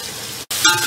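Potatoes and carrots fry with spices in a pot for vegetable pulao, a steady close hiss of sizzling broken by a brief silent gap in the middle.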